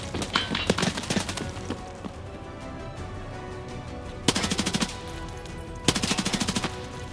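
Rapid automatic gunfire in the shooter game Escape from Tarkov, several sharp bursts of fast shots spread through the clip, with quieter single cracks between them.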